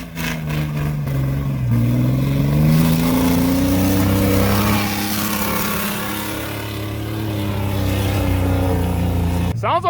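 A turbocharged Chevrolet Silverado engine revs hard to redline with a failing exhaust, a loud, close roar whose pitch climbs and holds, wavering slightly, then cuts off with a sharp burst at the end.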